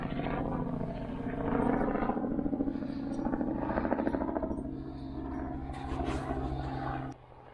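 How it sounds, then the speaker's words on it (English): A helicopter's steady low rotor thrum passes overhead, fairly loud and constant, then drops off abruptly near the end. "do you see the helicopter flying over?"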